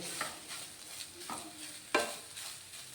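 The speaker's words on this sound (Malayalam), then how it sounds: "നമ്മളിവിടെ സൺഫ്ലവർ ഓയിലിലാണ് ഫ്രൈ ചെയ്യുന്നത്" Onions fry in a tablespoon of sunflower oil as a Kerala-style snack is made, with a steady soft sizzle broken by a few stirring scrapes and one sharper clatter near the end; no talk.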